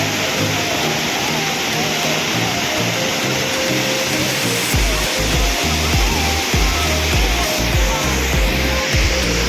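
Umru waterfall roars as a loud, dense, unbroken rush, with low thumps and rumbles from the water and wind buffeting close by.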